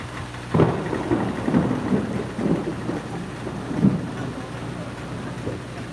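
Heavy rain pours steadily, a dense continuous hiss with low rumbles rising through it, heard without any talking.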